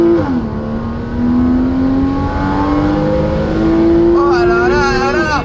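A Porsche Cayman 981 with 275 hp, windows open on a mountain road, revs up under acceleration, its engine note rising steadily and then climbing sharply near the end, loud and close from inside the car.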